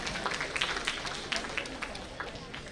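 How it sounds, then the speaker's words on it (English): Conference audience applauding a floral welcome at a CA students' national conference, a steady wash of many hands clapping at moderate distance, with some crowd murmur mixed in. "Let's have a round of applause for them."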